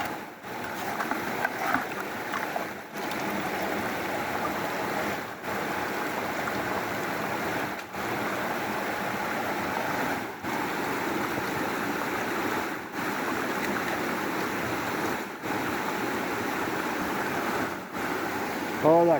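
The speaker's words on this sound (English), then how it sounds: "Oh, that creek is loud" A loud creek rushes through a deep canyon with bedrock pools, a steady, close roar of flowing water broken by faint periodic dips.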